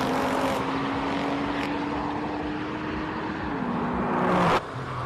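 A Porsche 911 race car at a hill climb idles and fires up with a steady engine drone. A sharp cutoff comes near the end, and no one speaks.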